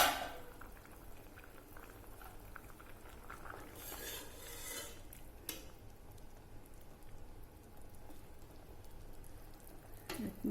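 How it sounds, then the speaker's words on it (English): A pot of Russian borscht soup simmers quietly, with faint, continuous bubbling and a few light clinks of a pot or utensil. "it's almost half an hour since the soup has been boiling"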